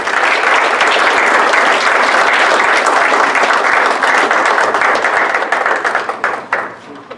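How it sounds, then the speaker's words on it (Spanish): Sustained, loud applause from an audience at a panel discussion, steady clapping for several seconds before gradually thinning out into scattered claps at the end. "recibamos con un caluroso aplauso a los maestros"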